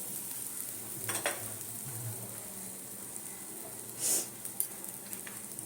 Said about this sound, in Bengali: সুজিটা একটু ভাজা হয়ে গেছে অল্প এইবারে নারকেলটা দিয়ে দিলাম